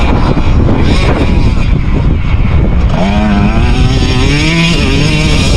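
A two-stroke dirt bike engine revs hard while climbing a hill, a loud buzzing drone whose pitch rises and wavers as the rider works the throttle, with no talk over it.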